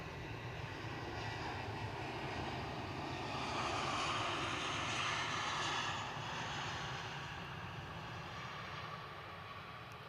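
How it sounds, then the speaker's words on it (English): A Ryanair Boeing 737-800 on departure to Malaga at Manchester Airport, its jet engines spooling up into a broad, steady distant roar that swells slightly mid-way and holds. "Ryanair 737-800 going off to Malaga, and it's already spooling up"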